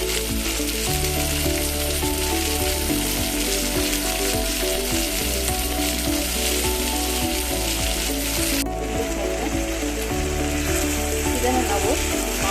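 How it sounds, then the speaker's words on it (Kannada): Avarekalu field beans fry in hot oil in a pan, giving a steady, close sizzle throughout with the scrape and clatter of a stirring spoon now and then. "ಇದನ್ನು ನಾವು ಆಯಿಲಿಂದ ಫ್ರೈ ಮಾಡಬೇಕು"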